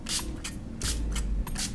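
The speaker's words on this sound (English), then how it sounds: "Let me spray." A makeup setting spray is misted onto a face in several short, close hissing bursts, about four to five quick sprays in a row.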